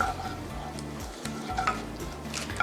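Hot oil sizzles steadily in a wok with garlic and shallots while a utensil scrapes and stirs, with light clinks of metal against the wok.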